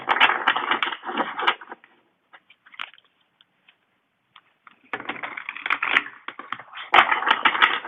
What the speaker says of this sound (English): let me just do 2 more shuffles